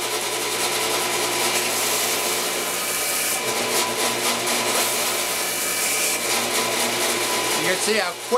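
A drill press spins steadily while sanding scratches are worked out of a metal motorcycle camera mount, a continuous whirring grind with rasping contact noise, ending in a brief rattle.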